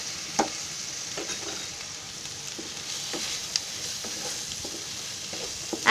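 Chicken fried rice frying in a pan as soy sauce goes in, a constant close sizzle broken by repeated short scraping stirs and an occasional sharp clink.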